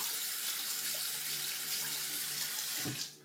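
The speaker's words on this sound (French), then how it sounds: "je remplis mon évier" Tap water runs steadily into a sink being filled before a traditional shave, a close, continuous rushing splash that tapers off as the flow stops at the end.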